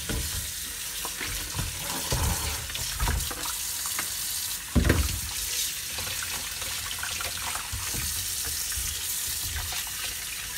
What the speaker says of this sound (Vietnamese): Chúng ta bắt đầu rửa xoài.